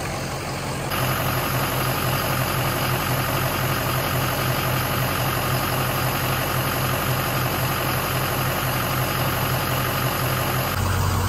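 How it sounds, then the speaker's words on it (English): A Ford 6.0 Powerstroke diesel truck engine idles steadily and loudly nearby, a constant low droning rumble with an even texture throughout and no voices. "The motor's kind of loud."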